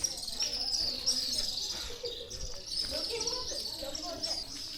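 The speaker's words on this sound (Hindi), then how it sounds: "भाई बर्ड्स की आवाज़ सुनिए, शाम के वक्त बहुत प्यारी आवाज़ आ रही है पक्षियों की।" Evening birdsong outside a 2200-year-old cave temple in Sri Lanka, a dense chorus of high chirps and trills with insect-like buzzing, steady and moderately loud, no talking.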